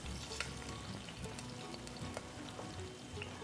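Onions sizzling and crackling in a hot pan, a steady busy frying hiss with scattered pops, fairly quiet and close, no voices.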